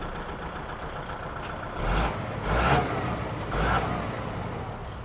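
A used Kubota L3218 tractor engine runs at a steady idle nearby, with three brief louder surges in its rumble.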